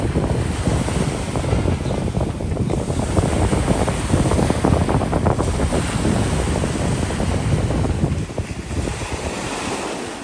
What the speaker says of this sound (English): I love to hear the waves crashing